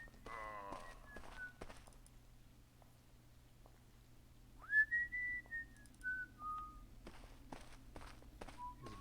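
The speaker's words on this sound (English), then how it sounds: "He's busy whistling." A character in the video game Arx Fatalis whistles a short melody, bright tonal phrases rising and falling, with game footsteps and thumps around it at low level.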